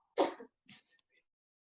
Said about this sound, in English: Why you coughing like that?